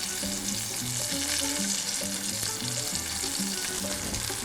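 Chicken supreme, skin side crisped, frying and sizzling in a pan, a steady dense crackle with bubbling spits running continuously and up close, no talk over it.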